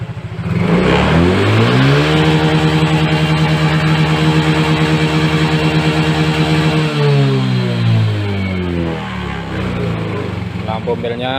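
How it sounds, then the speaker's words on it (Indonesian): A Yamaha Mio J scooter with a sputtering fault revs hard at full throttle, the engine pitch sweeping up, holding a loud steady whine, then falling back as the throttle eases, recorded up close. "Kita perhatikan sambil kita gas penuh ya."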